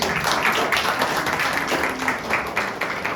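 A crowd of people applauding and clapping their hands together, a dense, continuous patter of claps throughout, fairly loud, with some voices mixed in.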